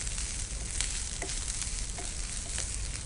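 Grated fresh coconut frying in a pan, giving a continuous soft crackling sizzle at close range with a few faint stirring clicks, fairly quiet and with no talk.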